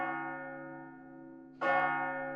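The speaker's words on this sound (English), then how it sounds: "A church bell rang in the distance." A sustained resonant bell tone with rich overtones, joined by a brighter second strike partway through, ringing on steadily without voices.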